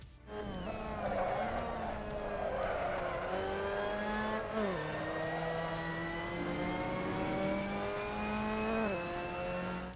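A Mazda MX-5 Cup race car laps Brands Hatch in Assetto Corsa, its engine droning loud and steady through the gears. Revs climb and drop with shifts and braking, and tires squeal briefly, with no voices.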